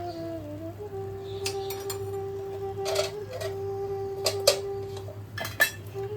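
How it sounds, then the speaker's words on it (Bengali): A metal lid lifts off a pot of cooked Bengali pulao, giving a few light metallic clinks and scrapes over a faint steady hum in a quiet kitchen. "এবার আমি ঢাকাটা খুলে দিচ্ছি।"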